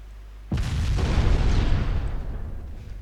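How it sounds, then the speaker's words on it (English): Torpedo hits explode in the naval strategy game Ultimate Admiral Dreadnoughts: one sudden loud boom breaks out of a low hum, then a heavy rumbling roar slowly fades over a few seconds, with no talk. "Got a few torpedo hits out of that"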